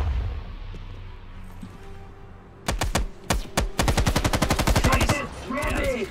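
Call of Duty Cold War gunfire shooting through a steel container, a few sharp shots then rapid automatic bursts with metallic impacts, loud and close over a low rumbling background.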